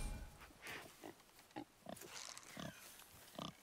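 Wild boar grunting in the God of War game, a run of short, snorting grunts at a steady irregular rhythm, fairly close and quiet with no talk over them.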